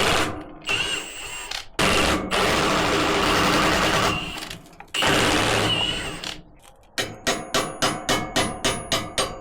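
A power tool tightens bolts during a rear disc brake conversion on a 1969 Chevy C20 pickup: several sustained whirring bursts separated by pauses, then a fast run of rhythmic impact hammering, loud and close.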